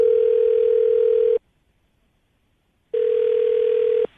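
A telephone ringback tone heard while a call is placed to a woman during a radio morning show: one steady, loud tone burst, a pause of silence, then a second burst that cuts off.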